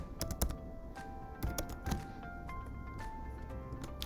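Typing a password on a computer keyboard, a quick run of close, crisp key clicks in short bursts with brief pauses, alone with no talk.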